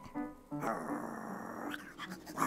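A dog growls in a low, rumbling snarl that swells and holds for about a second amid a cartoonish anime scene, with a brief earlier murmur and faint sounds trailing after.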